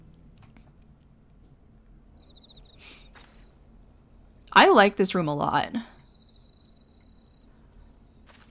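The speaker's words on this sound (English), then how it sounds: "The little crickets." Soft cricket chirping fills an apartment room in Final Fantasy XIV, a faint steady insect ambience running through the scene while someone talks over it in a brief burst.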